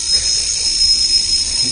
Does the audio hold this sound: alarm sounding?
yes